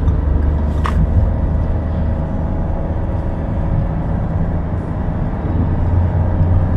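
A Daihatsu Rocky 1.2 with a manual gearbox accelerates in third gear, giving a steady, loud, low engine drone heard from inside the car, with road noise and no talking.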